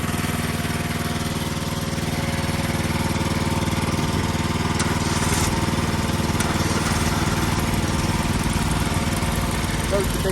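A 13 horsepower engine idles on a home-built wood processor, a steady, close mechanical drone with a constant low rumble and buzzing hum throughout.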